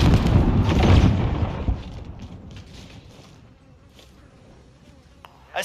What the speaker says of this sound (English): Grenade out! Flash out!